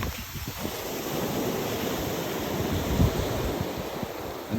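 Waves wash onto a beach during shore fishing for flounder, a steady moderate surge of surf mixed with wind rumble and a slightly stronger wash near the end.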